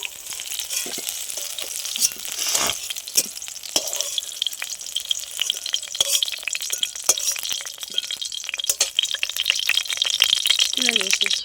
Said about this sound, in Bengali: আর অল্প একটু ভাজবো, ভেজে লাগিয়ে দেবো।